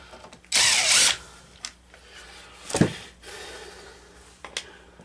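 Power tool removing screws from a Troybilt push mower, a short loud drill whir near the start, then a clunk and a few faint clicks and rattles.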